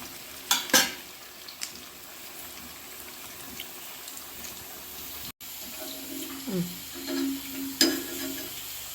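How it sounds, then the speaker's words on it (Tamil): Taro root (colocasia) pieces frying in oil in a pan and being stirred: a steady sizzle with scraping and clinking stirs at intervals, close and moderately loud. "அப்படியே எல்லா கிழங்கையும் நம்ம வறுத்து எடுத்துக்கணும்"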